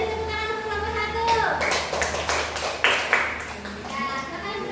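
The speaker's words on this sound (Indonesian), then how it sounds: "beri tepuk tangan untuk kelompok 1." Children clapping together for a group in a fourth-grade classroom, a burst of sharp hand claps that rises after a second and fades near the end, with background voices.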